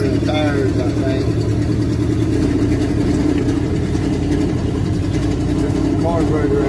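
A car engine with a poorly running carburetor drones steadily at close range, loud and continuous, with a rough uneven mid-pitched hum.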